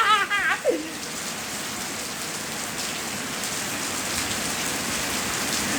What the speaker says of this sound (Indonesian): Sumpah hujan. Mana geluduk lagi.